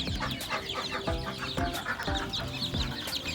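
Newly hatched chicks fresh from an incubator, crossbreeds of salmon and gray plumage, chirp and cheep continuously in a dense, busy chorus, with an adult hen clucking rhythmically nearby.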